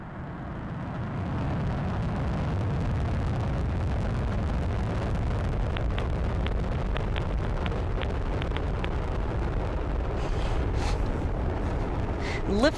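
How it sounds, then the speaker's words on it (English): An Atlas V rocket lifting off at a NASA launch, a steady, loud broadband roar that swells in the first seconds and then rumbles on without pause, with faint crackling on top. "Lift off the Atlas V rocket and twin spacecraft on a mission to unlock the mysteries of Earth's Van Allen belts."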